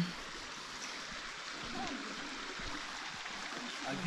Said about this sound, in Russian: И почти мы уже у водопада,